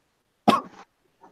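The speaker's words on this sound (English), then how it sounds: "that's what you know I'm talking because I'm just coughing" A single sharp cough, close and fairly loud, followed by a short trailing rasp and then near silence.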